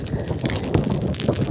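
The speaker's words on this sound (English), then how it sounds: "And it's so windy I can't hear" Strong wind gusts across Bodmin Moor in Cornwall during heavy winter rain, a loud continuous roaring buffet close to the microphone with irregular thumps and rushes.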